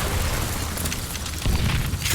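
A heavy, rumbling blast from the Wild West shooter Call of Juarez Gunslinger fills the moment, a dense continuous boom with a second surge of low roar partway through.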